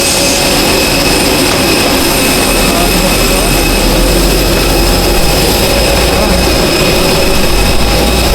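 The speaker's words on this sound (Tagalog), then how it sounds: "Sasakay na tayo sa aeroplano" Loud, continuous jet engine roar fills the scene while passengers board an airplane, a dense, unbroken wash of noise with a low rumble and a steady high whine throughout.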